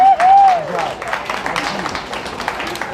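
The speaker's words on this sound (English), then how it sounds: "give them a big round of applause" An audience applauds at a county fair swine show, a short burst of broadband clapping in a mid-sized crowd that fades to a steady patter, with a high ringing tone near the start.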